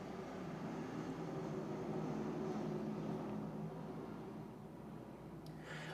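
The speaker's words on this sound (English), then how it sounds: "Let's just hold for that plane." A plane passes overhead as a steady, broad drone that holds for about six seconds, moderately loud and continuous with no one talking.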